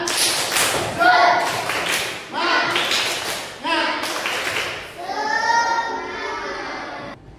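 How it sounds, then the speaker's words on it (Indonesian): A class of fourth-grade pupils performs a rhythmic 'tepuk semangat' clapping routine, several bursts of patterned group clapping with chanting voices between them, loud and close. "Tapi sebelum norma terakhir kita tepuk semangat dulu."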